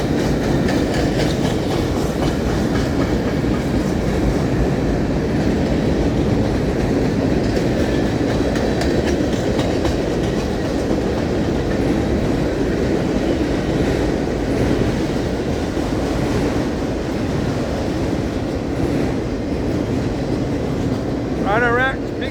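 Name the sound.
long manifest freight train passing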